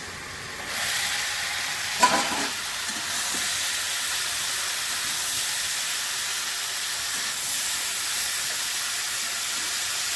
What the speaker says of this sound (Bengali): এবার আমি এগুলোকে ভালো করে কষিয়ে নেব।